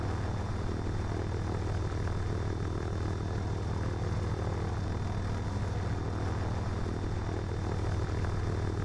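A Cessna Cardinal 177B propeller engine drones steadily and evenly in a VR flight simulator, sounding close and constant throughout.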